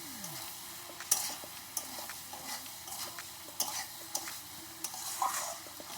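Spiced potatoes sprinkled with ground black pepper are stirred in a pan, a gentle sizzle under irregular spatula scrapes and taps against the metal.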